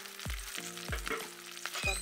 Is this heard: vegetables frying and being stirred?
yes